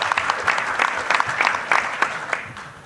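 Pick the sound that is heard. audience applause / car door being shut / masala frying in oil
audience applause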